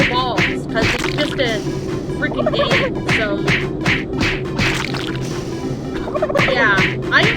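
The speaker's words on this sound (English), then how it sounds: "This is just a video game turkey." Repeated turkey gobbles from a turkey in the video game Doom 3 BFG Edition ring out in quick bursts over a steady background hum, with a voice briefly talking among them.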